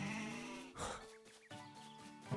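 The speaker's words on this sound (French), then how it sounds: "Oh là, le petit enclos avec des moutons." Sheep bleat from a small pen in the Mario Golf Super Rush video game, two or three wavering cries in a row, fairly close over a faint musical background.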